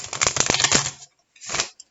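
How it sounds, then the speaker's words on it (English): Decks of tarot cards being shuffled by hand, a quick riffling flutter of card edges for about a second, a brief pause, then a shorter second riffle, close and crisp with no talking. "I will give the decks a couple more shuffles here"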